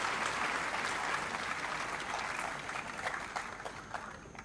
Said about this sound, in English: Let us clap the young chaps of students from schools we have with us.